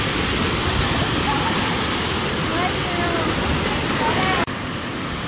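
River water rushes steadily in a popular bathing spot where people swim, a broad continuous roar of flowing current up close with faint voices mixed in, ending in a brief knock.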